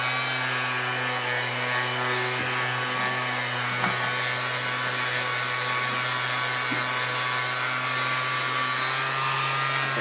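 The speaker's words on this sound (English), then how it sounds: "I'm finishing it up with just a random orbit sander." A random orbit sander finishes a turned wooden jar lid with a constant, close electric hum and whine that holds steady from start to finish, with a few faint bumps of contact.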